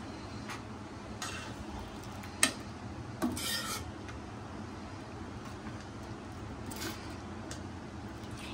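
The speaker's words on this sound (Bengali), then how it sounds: "দিয়ে ভালো করে নাড়তে থাকবো" Semai payesh (vermicelli pudding) being stirred in a pan over a low gas flame: soft, intermittent scraping and rubbing strokes with a couple of sharper clinks, faint over a steady low hum.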